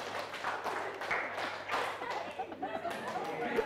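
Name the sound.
class clapping in rhythm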